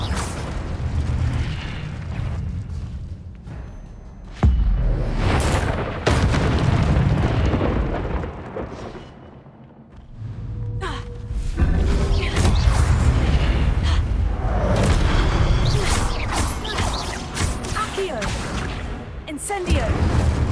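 Incendio fire spells burst in Hogwarts Legacy, sharp booming blasts and whooshing flares scattered over a noisy stretch of combat, loud and close.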